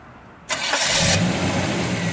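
A 1964 Pontiac Tempest custom with a 428 V8 and dual quads fires up with a sudden loud catch, then settles into a steady, rumbling idle up close.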